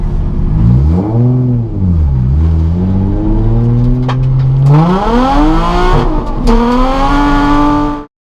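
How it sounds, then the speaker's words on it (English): A Nissan 350Z drift car engine revs at about half throttle, loud and close, rising and falling in several sweeping pulls before climbing higher and cutting off abruptly, with no talk. "I'm going like half throttle on the first bit."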